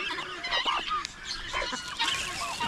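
Male turkeys kept outdoors call in a cluster of raspy, honking gobbles, several overlapping bursts close by with brief gaps between them.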